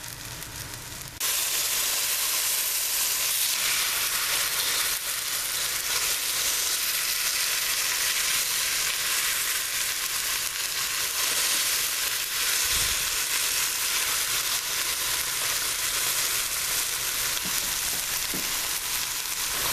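A beef pot roast sears in a hot pot, a loud, steady, close sizzle and crackle of frying meat that carries on unbroken for the whole stretch, with no one talking.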